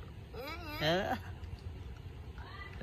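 A cat meows twice in quick succession, rising and falling calls, then a fainter meow follows a moment later, close by over a low background murmur.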